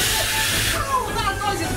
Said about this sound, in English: let's try the vacuum cleaner again